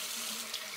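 Tap water pouring steadily into a basin for watering potted phalaenopsis orchids, a smooth, close hiss of running water with no talking.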